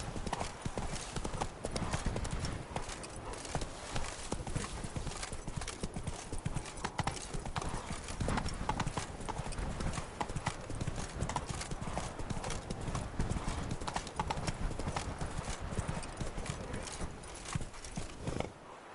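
Horse hooves pound in a steady fast clip-clop gallop throughout, loud and close, in The Witcher 3 video game, with broad rumbling ambience beneath and no talk over it.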